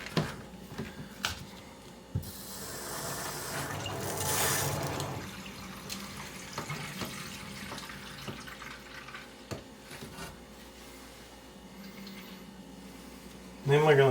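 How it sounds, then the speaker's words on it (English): Water runs from a tap in a small barndominium in a short, faint hissing burst that swells and then fades, surrounded by quiet clicks and handling sounds. "I'm going to go ahead and turn the water on"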